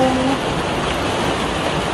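Heavy typhoon rain pours in a steady, dense roar, loud and unbroken throughout, with a brief tonal hum at the start.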